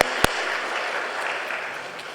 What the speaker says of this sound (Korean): 따뜻한 격려의 박수 한번 보내주시기 바랍니다